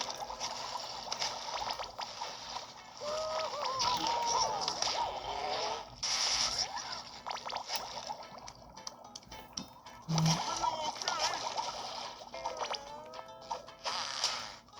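Bubble-shooting effects in the SpongeBob SquarePants: The Cosmic Shake video game, watery trickling and popping bursts repeating over busy game music and effects, fairly close and moderately loud.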